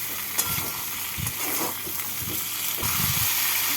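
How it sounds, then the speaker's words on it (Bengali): Potatoes and ridge gourd fry in a pan for a Bengali rui fish curry, a steady close sizzle with bursts of stirring and scraping every second or so. "আলু আর ঝিঙে ভেজে নিয়েছি।"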